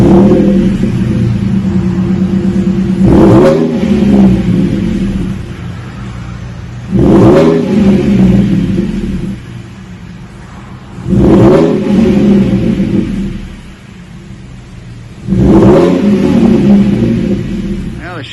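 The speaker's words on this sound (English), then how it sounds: "Just give it some rumble with a nice Flowmaster Super 44" A 2014 Ford F150 V6 with a Flowmaster Super 44 muffler and side-exit 4-inch stainless roll tips revs four times at steady intervals, each a loud, deep rumbling swell dropping back to a throaty idle.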